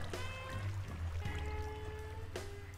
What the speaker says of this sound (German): Dass wenn man hier sitzt, dass man so ein leichtes Plätschern im Ohr hat?